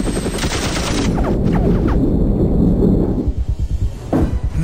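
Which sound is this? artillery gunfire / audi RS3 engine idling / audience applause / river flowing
artillery gunfire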